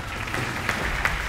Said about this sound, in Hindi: छोड़ दो इन सब के लिए बहुत सारी तालियां